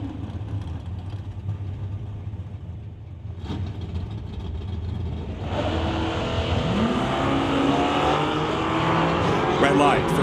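Drag race start at an NHRA Summit ET Series event between a 1992 Mustang Fox Body and an S10: engine drone builds, then loud roaring launch and tire noise swell in the second half, with an announcer talking.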